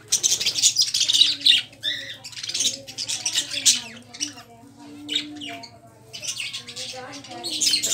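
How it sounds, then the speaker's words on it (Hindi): Caged pigeons, chickens and parrots squawk, chirp and coo close by in a busy chorus, with occasional wing flaps, while a person talks over them. "घूमरे भी रखे हुए हैं, मुर्गियां भी हैं, तोते भी हैं।"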